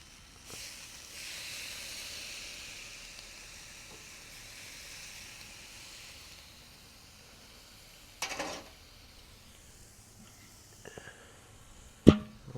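Flank steak sizzles softly on a Weber kettle grill, a steady faint hiss that fades midway, broken by a couple of sharp clanks near the end.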